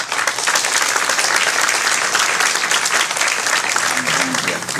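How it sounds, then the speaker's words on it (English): Sustained audience applause at a coding festival event, dense steady clapping filling the whole stretch, with a brief voice murmuring near the end. "Let's go give everyone a round of applause"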